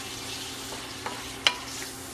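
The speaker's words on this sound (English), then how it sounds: "So I'm just going to stir this up a little bit." Vegetables stirred in a sizzling sauce in a pan, a soft continuous fry with a couple of faint scraping clicks from the spoon, heard close and without talk.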